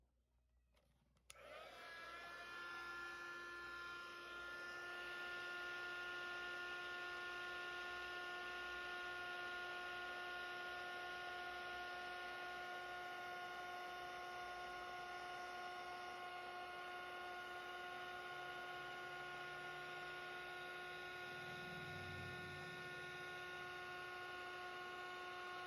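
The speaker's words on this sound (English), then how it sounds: "I'm going to grab my embossing heat tool." An embossing heat tool blows steadily to melt frosted crystal embossing powder, a continuous whirring hum with a tonal whine that starts abruptly and runs without a break, close and loud, with no talk over it.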